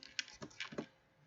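Several quick keystrokes on a computer keyboard, about five soft clicks in an uneven burst, faint and close, then quiet.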